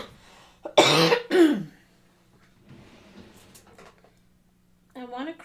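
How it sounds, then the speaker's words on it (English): A woman coughs into the mic: two sharp, close coughs in quick succession, then quiet background rustling and a short voiced sound at the end. "I'm going to be apologetic for my cough throughout this whole thing"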